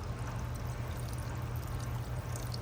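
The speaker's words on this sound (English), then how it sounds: "I'm just gonna water it a little bit, get it wet." Water pours steadily onto a mushroom growing bed, a continuous close splashing wash with no pauses.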